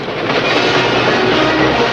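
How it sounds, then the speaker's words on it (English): Loud, continuous rattling rumble of a train crossing a trestle in a 1952 western, the clickety wheel noise and heavy rolling roar steady from start to finish with no voices over it. "Boss, it is a train."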